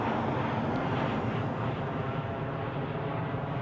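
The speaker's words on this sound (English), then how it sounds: "the plane noise might be." Aircraft noise near Heathrow Airport, a steady, loud broadband roar that stays constant throughout, much like a plane overhead mixed with wind.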